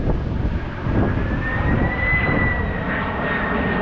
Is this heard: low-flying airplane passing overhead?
yes